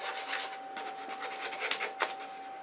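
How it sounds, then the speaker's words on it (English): Sandpaper rubs with the grain along a wooden shop stool part, a steady dry rasping with brief stronger strokes over a constant faint hum, close and fairly quiet. "You want to be sure to sand with the grain."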